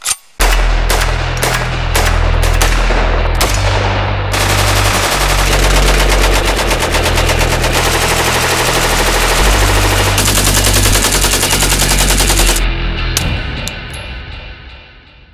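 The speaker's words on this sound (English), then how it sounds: "Got the scar out, 5 rounds each mag, alternating left and right hands." SCAR rifle fired on an outdoor run-and-gun course, five-round magazines shot alternating left and right hands: loud, close bursts of rapid shots, with a brief lull partway through and a few final cracks as firing tapers off.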